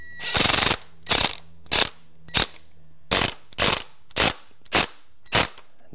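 Screws are driven into an exterior door threshold, heard as about ten loud, close, ratcheting bursts from a power driver, each short and evenly spaced, with no talking.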